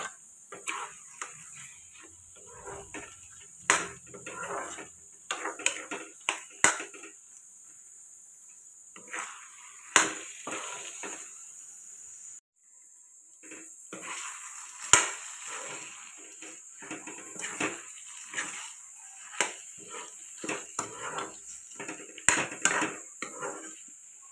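Duck meat and coconut frying with a spoonful of sugar in a pan, stirred by a metal spoon that clacks and scrapes against the pan in irregular bursts over a faint high hiss.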